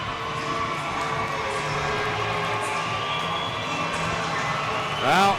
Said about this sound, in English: this is a very rambunctious crowd here at the Minto Community Recreational Complex